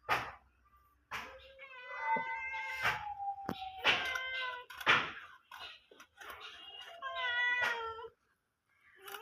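A cat meows several times close by, drawn by the smell of freshly cut round pieces of rohu fish in a home kitchen, its calls coming in separate drawn-out bursts with short pauses.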